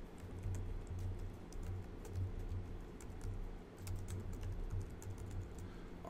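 Fast, uneven clicking of someone typing code on a computer keyboard during a programming lecture, a steady quiet patter of keystrokes with no talk.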